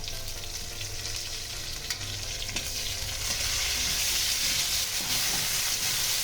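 Gainari leaves dropped into a hot frying pan for tetor dal, a constant close hiss of frying that swells louder toward the end, with faint stirring knocks and no talk.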